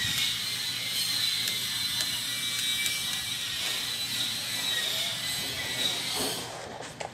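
A hand tool tightens screws during repair of an electric fan, giving a continuous close mechanical ratcheting rasp with faint clicks and a hiss throughout.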